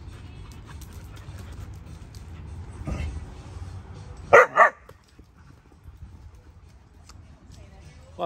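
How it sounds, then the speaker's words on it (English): Two sharp dog barks ring out in quick succession at a dog park over low background murmur and outdoor ambience, with a faint yip earlier. "Just some dogs over there having a time."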